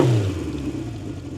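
A 1970 Honda CB750 K0 motorcycle with a fully rebuilt engine runs close by, opening with a loud low rev that settles into a steady idle rumble. No one speaks.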